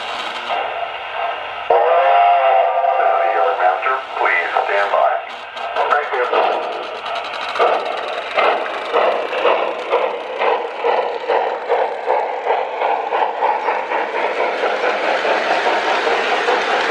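A restored 1946 Lionel 726 Berkshire model steam locomotive runs with its Railsounds tender, playing continuous electronic chuffing and rail noise in a steady rhythm, with a whistle-like tone near the start and loud throughout.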